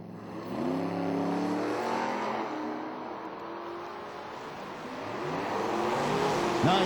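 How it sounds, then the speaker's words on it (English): Datsun racing down a drag strip, its engine revving hard and climbing in pitch, steady and fairly loud throughout with the roar swelling again near the end. "Myrick in the Datsun"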